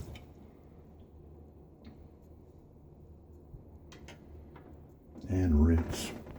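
Water runs briefly near the end as a razor is rinsed during a wet shave with a ZenShave 3-Band setup, a short close splash and trickle rising over quiet room noise.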